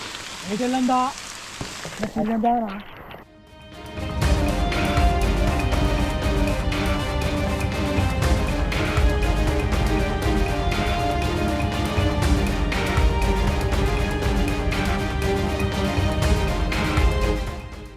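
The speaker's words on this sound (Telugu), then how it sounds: "ఘోరంగా ఉంది వర్షం మీరు చూడొచ్చు ఆల్మోస్ట్ అందరం తడిచిపోయినాం" Heavy rain pours outdoors during a village crab hunt, a dense, steady roar of drops with scattered louder hits, following a few seconds of voices talking at the start.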